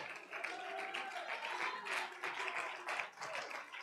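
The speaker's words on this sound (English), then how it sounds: "clap your hands and shout to the Lord in here" Church congregation clapping hands during a sermon, a faint, dense patter of many hands with some voices mixed in, continuing steadily throughout.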